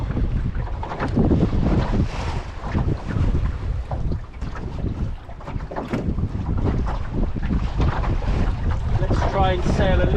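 Sailboat beating upwind in a force 4 breeze with force 5 gusts, strong buffeting wind rushing across the microphone over hull and water noise, loud and continuous with surging gusts.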